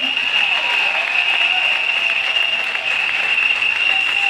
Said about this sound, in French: Donnons des acclamations à Jésus